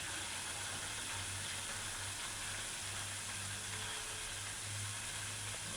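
Faint, steady crackling hiss of chicken wings frying in oil, continuous and even with a low hum underneath.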